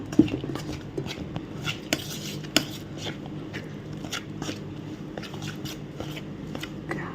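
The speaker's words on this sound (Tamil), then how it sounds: "இந்தமாரி ஸ்பூன் வச்சு நல்லா குழைச்சிடுங்க" Soft, steady scraping and clinking of a spoon stirring thick, hot rice-flour dough for modak dumplings in a bowl, with occasional sharper taps against the side.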